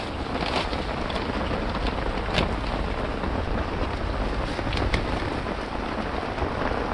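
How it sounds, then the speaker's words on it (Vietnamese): Heavy rain pours during a cold, rainy fishing outing, a dense unbroken hiss with occasional sharper spatters and some wind buffeting the microphone, no voices. "Mưa to quá."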